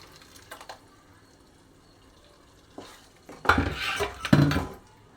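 Tomato, cashew and dried red chilli paste stirred into a paneer curry in a pan: soft clinks and scrapes of a spoon against the metal, then a louder burst of scraping and a faint sizzle, with no talk.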